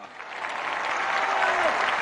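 A crowd at a Chinese MMA professional league event applauds a Ukrainian fighter's introduction, a dense, steady wash of clapping with scattered cheers that swells slightly over the two seconds.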